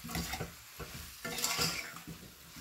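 Mixed summer vegetable curry is stirred in a pan, giving a few soft scraping strokes over a faint sizzle, quiet and close, with no talking.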